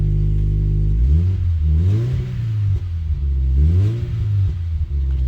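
A Toyota FRS engine revs repeatedly from a steady idle, rising and falling in several loud, close blips with a smooth mid-range drone between them.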